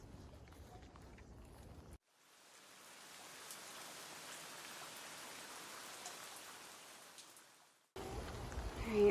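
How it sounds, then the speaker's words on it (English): Steady rain with wind hissing through a forest trail in Florida, a broad soft wash that swells gently and holds for several seconds without talk. "It's starting to rain again"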